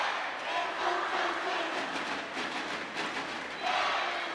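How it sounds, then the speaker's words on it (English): North Korean supporters chant together at a world team table tennis championship match, a steady, rhythmic crowd roar that swells and dips over broadband arena noise. "Their cheer, keep on fighting, keep on going strong is what they're cheering."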